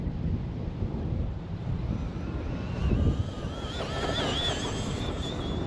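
Traxxas Rustler 2WD VX3 RC car at full throttle, a high-pitched electric motor whine that climbs and wavers as it speeds past, partly buried under heavy wind buffeting on the microphone.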